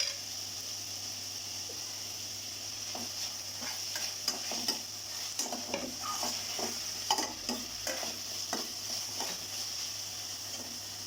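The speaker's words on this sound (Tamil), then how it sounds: "நல்லா வதங்கினதுக்கப்புறம் தக்காளி ஆட் பண்ணிக்கலாம். பச்சை மிளகாய் ஆட் பண்ணிக்குவோம்." Tomatoes and green chillies being sautéed for a chicken kurma, stirred in a pan with a steady low sizzle and scattered scraping taps of the spoon, with no talking.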